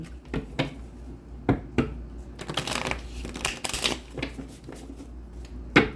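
Tarot cards are shuffled by hand nearby, with soft riffling flutters and sharp taps of the deck in an irregular rhythm.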